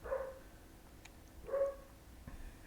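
A pet dog barking in the distance, two muffled barks spaced about a second and a half apart, with faint clicks between them and no talk.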